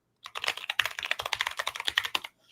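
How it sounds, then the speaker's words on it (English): Close, continuous typing on a loud computer keyboard during a SvelteKit coding session, a fast run of crisp clacking keystrokes lasting about two seconds, heard alone with no talking. "Sorry if my keyboard's a little bit loud"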